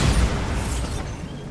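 A Bombarda spell goes off in Hogwarts Legacy with a short, loud burst that fades into a rumbling, crackling tail.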